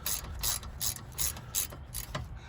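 Ratchet clicking in quick repeated bursts while snugging a brake caliper bolt on a Kia Forte during a brake replacement, close and distinct with a rhythmic pawl rattle and no speech.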